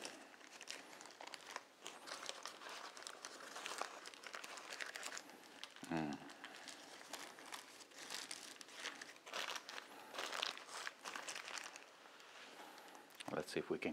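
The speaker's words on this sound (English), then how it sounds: "pull the paper down." Baking paper is peeled and pulled off a burnt Basque cheesecake, crinkling and crumpling in repeated close rustles, with a person talking over the sound.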